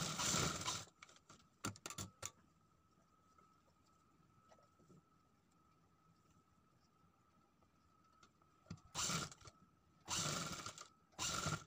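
A sewing machine stitches piping onto a sleeve in short loud bursts at the start and end, with a quiet stretch in between.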